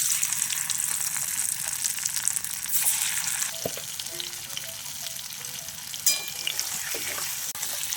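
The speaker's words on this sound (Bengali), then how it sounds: "পনিরটাকে এভাবে করে ভেজে নেব।" Paneer pieces fry in oil with a soft, steady sizzle and crackle, broken by a few faint utensil clinks, and no one speaks.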